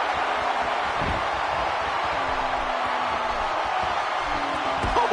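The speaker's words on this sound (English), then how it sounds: "listen to this crowd" Broadband arena crowd roar from a WWE 2K16 wrestling match on PS4, a steady dense wash of cheering that holds loud throughout with no letup.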